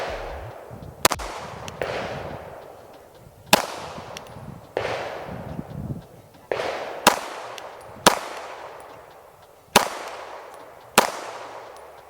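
A KRISS Vector Gen 3 fires sharp single shots at an outdoor range, with about nine loud close reports at irregular intervals, each trailing off into a decaying echo.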